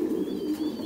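Pigeons on a pigeon farm coo in a low, steady murmur that fills the whole moment, a close flock humming continuously with no pauses and no voices.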